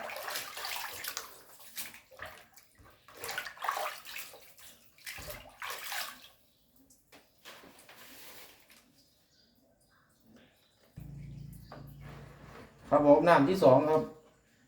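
Pork intestines being washed in water, with splashing and sloshing in a basin coming in bursts between stretches of talking, then a steady pour of running water and a louder churning wash at the end.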